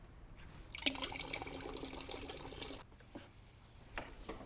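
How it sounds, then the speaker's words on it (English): Coolant pours from the petcock drain at the bottom of a BMW radiator, a loud splashing stream that starts abruptly, runs for about two seconds and cuts off, leaving faint drips afterward. "There's a blue petcock drain on the bottom of the radiator. We're gonna pull that and get the rest of the coolant out."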